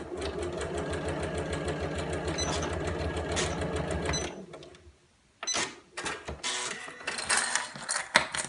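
A sewing machine stitches a tablet case seam in a steady, fast mechanical whir, stops briefly, then restarts in short choppy bursts while back tacking, close and alone.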